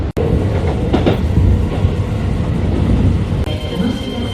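An express train to Kyoto, Japan rumbles steadily along the rails with a low continuous roar and faint rhythmic clatter, close and loud throughout.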